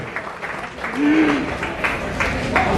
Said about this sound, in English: a round of applause for His Excellency Ambassador Yusuf Jonga